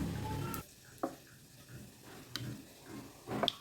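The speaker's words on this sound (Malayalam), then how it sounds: "ഞങ്ങളിവിടെ ഓയിലും വെളിച്ചെണ്ണയും കൂടിയാണ് ഒഴിച്ച് കൊടുക്കാറ്." Oil and coconut oil hit a hot pan with a soft, steady sizzle, a brief hissing burst followed by quieter crackling and a few faint ticks.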